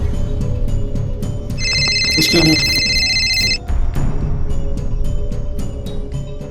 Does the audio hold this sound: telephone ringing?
yes